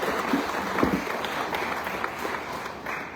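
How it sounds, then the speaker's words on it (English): Audience clapping at a ceremony honouring a police officer, a steady, moderately quiet patter of many hands with a faint voice or two briefly underneath. "A big clap for Diksha."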